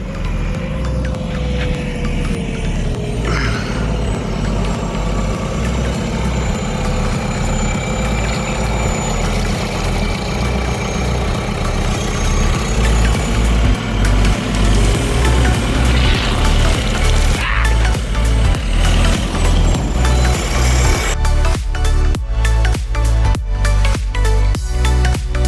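A heavy 3.5-ton street sweeper runs with a steady, loud low engine rumble that grows heavier midway, then gives way to rhythmic mechanical chugging toward the end.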